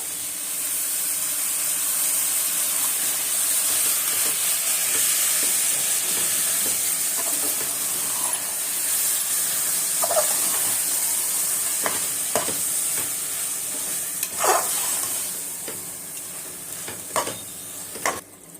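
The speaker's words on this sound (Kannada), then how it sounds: "ಈಗ ಚೆನ್ನಾಗಿ ಫ್ರೈ ಆಗಿದೆ ನೋಡಿ ಎಣ್ಣೆ ಯಾವ ಥರ ಬಿಟ್ಕೊತ ಇದೆ" Chicken biryani masala frying in oil in a pot, a steady close sizzle throughout with scattered scrapes and clinks of a spoon stirring it.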